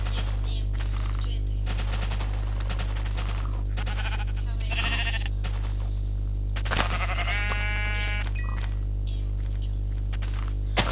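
Repeated bleating of Minecraft sheep in a survival game, several harmonic bleats spread across the stretch, clearest in the middle, over constant mains-like hum and game clatter.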